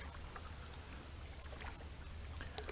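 A kayak on Prettyboy Reservoir on a breezy day, paddles dipping and a low rush of wind and water around the boat, soft and steady with no talking.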